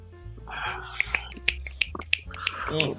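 An audience at a spoken word poetry event snaps their fingers after a poem. The sharp, crisp snaps come one after another at a steady pace, close by, over quiet murmuring and whispering.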